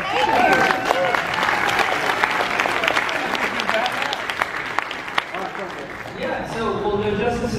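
An audience at a DC Q&A convention panel at MegaCon Orlando claps loudly for cosplayers, sustained dense applause from a large crowd that tapers off toward the end.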